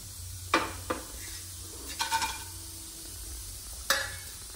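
Dry fish being fried in oil in a pan in a home kitchen, a soft sizzle under occasional clanks and scrapes of a utensil stirring against the pan, with sharp metallic knocks spaced out over a few seconds.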